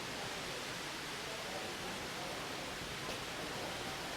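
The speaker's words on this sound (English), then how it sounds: "You can definitely hear waterfall stream" Steady rushing water from a waterfall stream near a small pond in Kew Gardens, London, a dense even hiss that continues unchanged, with no voices.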